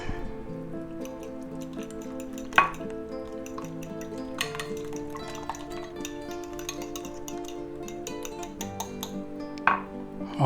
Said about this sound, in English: Now we're going to go ahead and mix that up.